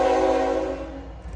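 A locomotive horn sounds a single held chord close by along the Folkston, Georgia rail line, backed by a deep rumble of passing cars, fading a little in the last moment.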